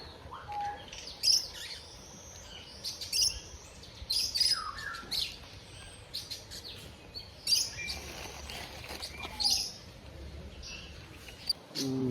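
Birds chirp and tweet at a bird park in Leicestershire, England, sharp bright calls popping out repeatedly over a constant low outdoor hum, some near and some farther off.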